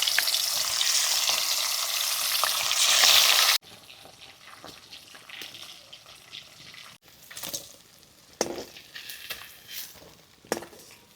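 Koi fish frying in hot oil gives a loud, dense sizzling hiss, which cuts off abruptly and leaves quieter clinks and soft kitchen knocks.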